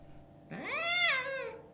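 A single drawn-out cat meow that rises and then falls in pitch, clear and close, with no other sounds around it.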